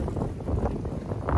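Strong wind gusts across the Nyhavn canal in Copenhagen, buffeting the microphone with a low, rumbling roar that swells and eases unevenly throughout, with no voices.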